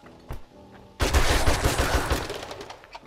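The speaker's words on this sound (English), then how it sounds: "I shot the porta potty." Rapid gunshots hit a porta potty in 7 Days to Die on console, a loud sustained volley erupting after a brief quiet moment with a few scattered shots.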